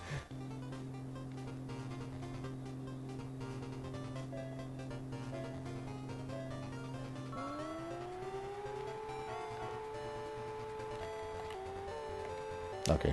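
A garbage truck in a racing video game, driven with manual shifting, holds a steady engine drone, then revs up and climbs in pitch about halfway through, continuing loud and alone with no talking.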